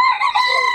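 A rooster crows loudly and close at a chicken market in Bocaue, a single short strained call with strong harmonics.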